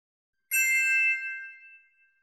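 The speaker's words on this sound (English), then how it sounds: "Without the pedal, the notes are automatically damped and sounds very short and dry." Vibraphone notes struck with the pedal up, damped short and dry; a single bright metallic strike rings briefly alone and fades within about a second and a half.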